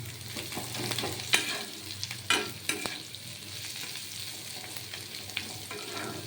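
Bottle gourd peels fry under a lid in a pan, a quiet low sizzle broken by a few sharp clanks and scrapes from stirring, fairly faint and close.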